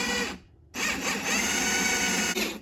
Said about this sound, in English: Drill a hole straight through here.